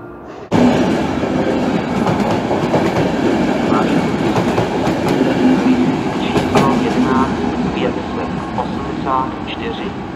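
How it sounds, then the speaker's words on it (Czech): A train departing a station rumbles loudly and steadily with clattering wheels and occasional squeals, a continuous close mechanical roar, at Tišnov station in the Czech Republic. "Vlak je připraven k odjezdu."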